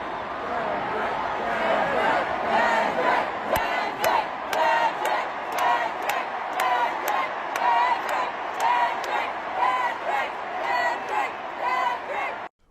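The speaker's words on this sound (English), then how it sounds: "take a look at the crowd noises here" A huge stadium crowd at a concert in Toronto roars and chants in rhythmic waves, loud and continuous, with sharp peaks of shouting throughout.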